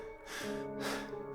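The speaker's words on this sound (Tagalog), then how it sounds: "Isang malakas na paghugot ng hininga ang ginawa ng dalaga" A sharp, loud intake of breath by a young woman as a horror-story sound effect: a sudden airy gasp followed by a second heavy breath, over a low hum.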